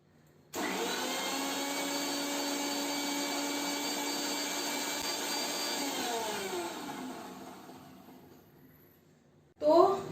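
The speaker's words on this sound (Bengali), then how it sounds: "তো তার জন্য অল্প জল দিয়ে এটাকে খালি মিক্সিটাকে আর একবার ঘুরিয়ে নেবো" Kitchen mixer grinder running with its jar holding only a little water for cleaning, a loud steady whirring motor hum that winds down after about six seconds, followed by a brief clatter.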